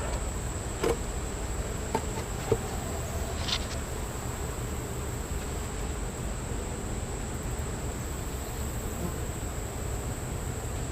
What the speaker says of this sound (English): There's still a decent amount of bees in there